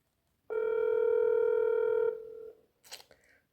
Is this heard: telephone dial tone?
yes